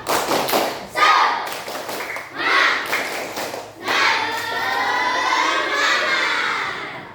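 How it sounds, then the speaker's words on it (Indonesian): A class of schoolchildren performs the tepuk semangat clapping chant, shouting in bursts with sharp rhythmic claps and thumps, the group voices rising and falling close by. "ayo yang semangat, tepuk semangat"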